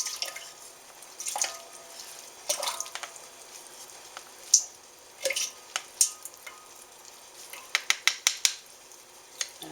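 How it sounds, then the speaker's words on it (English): Wet tea leaves being squeezed by hand over a bowl after brewing a batch for kombucha, giving scattered soft drips and splashes of water, with a quicker run of small trickling drops near the end, fairly close and quiet. "I'm going to squeeze out the water from the tea."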